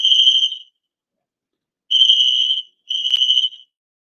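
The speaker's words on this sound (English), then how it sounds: "there was an alarm going off" An electronic alarm sounding in a home setting, three loud, steady high-pitched beeps, each about half a second to three-quarters of a second long, separated by silent gaps, with no talk.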